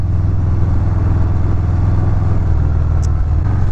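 A 2019 Harley-Davidson Fat Bob motorcycle engine running steadily with a deep, loud, pulsing low rumble that stays constant and close.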